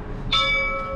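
A church bell at an Easter celebration strikes once, its bright ringing tones sustaining and slowly fading over low background murmur.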